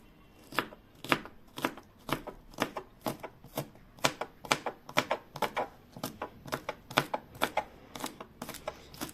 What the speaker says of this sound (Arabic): هنخرط البصل